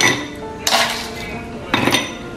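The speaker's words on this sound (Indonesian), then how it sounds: "Langkah pertama kita siapkan es batu." Ice cubes dropped into a glass for iced tea with nata de coco, giving two bright clattering bursts of clinks, close and moderately loud, over faint background hum.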